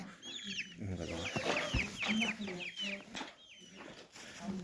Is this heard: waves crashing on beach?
no